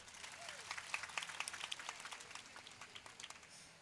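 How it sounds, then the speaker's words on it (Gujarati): Quiet audience applause at an International Women's Day gathering: a few seconds of scattered, fast hand claps that swell and then thin out, heard at a distance. "આપણે તાળી વગાડીશું."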